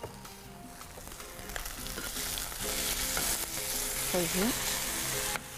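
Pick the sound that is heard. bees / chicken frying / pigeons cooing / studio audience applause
chicken frying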